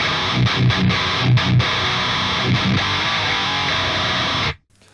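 A buzzy, heavily distorted electric guitar through an Audiority Heavy Pedal Mk2 plugin modeled on the Boss HM-2 chugs through a few choppy palm-muted hits and sustained chords, loud, then cuts off abruptly at the end.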